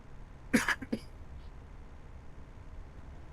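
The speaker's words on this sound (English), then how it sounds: "still got a bit of a chesty cough" Two quick, rough chesty coughs from a man come close to the microphone, followed by a few seconds of quiet room noise.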